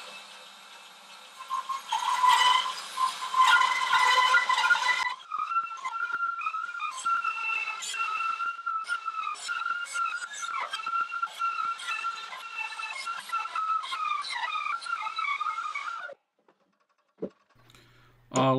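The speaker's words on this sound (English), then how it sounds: "and then to cut it out on the bandsaw." Bandsaw cutting a yew wood blank, a loud whining, screeching cut with shifting tonal squeals that runs for most of the clip, then stops abruptly, leaving near silence and a brief knock.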